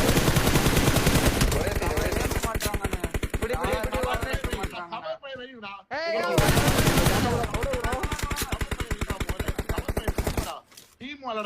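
Rapid automatic gunfire from a shooting video game rattles in long dense bursts, loud and close, with a short lull in the middle and excited players talking over it.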